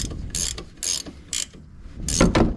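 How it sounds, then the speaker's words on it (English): A ratchet wrench loosens nuts on a car's inner tie rod boot, with several loud, close bursts of rapid clicking separated by brief pauses and no voices. "let's continue to also to remove our nuts in here so we can take off our boot from the inner tie rod"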